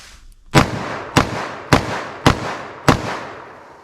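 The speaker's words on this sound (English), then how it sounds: "We have the 44 Magnum first, and I'll shoot as fast as I think I can and still hit the target." Five loud, sharp gunshots from a .44 Magnum revolver firing Buffalo Bore wadcutter rounds in rapid succession, evenly spaced about half a second apart, each crack followed by a brief echoing decay outdoors.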